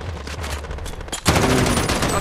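Gunfire fills an online Modern Warfare match, a dense and loud automatic burst that grows heavier partway through. Faint voices sit beneath the shooting.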